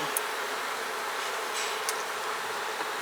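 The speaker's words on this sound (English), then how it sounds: "Shake the bees out of my queen clip." Honeybees buzz in a steady, close hum while being shaken out of a queen clip at a colony, with a few faint taps.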